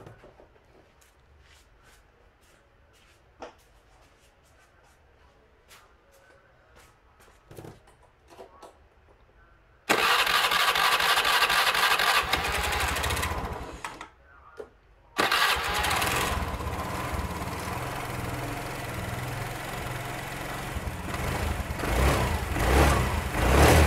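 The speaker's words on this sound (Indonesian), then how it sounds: "kita nyalakan motornya." An automatic scooter engine is cranked after a CVT drive belt service, with faint workshop clicks first, then a sudden loud start, a brief stall or pause, and a restart into a steady, close, droning idle.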